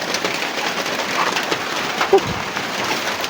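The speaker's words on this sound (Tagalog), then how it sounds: "Ang lakas ng ulan tol." Heavy rain pouring down, a steady dense hiss of drops on surfaces throughout, with a brief louder knock near the end.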